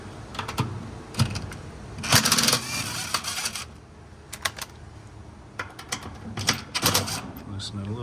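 Ratcheting and metallic clicks from removing three half-inch bolts off a Whirlpool direct drive washer gear case transmission, coming in short bursts with pauses and a longer busy stretch near the middle, close up under quiet background.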